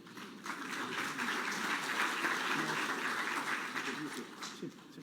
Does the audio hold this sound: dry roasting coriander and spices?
no